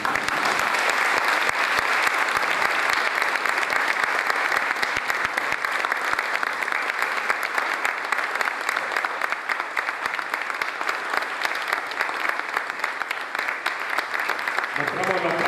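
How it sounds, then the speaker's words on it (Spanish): Sustained applause from a crowd honouring Falklands War veterans, steady and dense clapping throughout, fairly loud, with a slight tail-off near the end. "El aplauso."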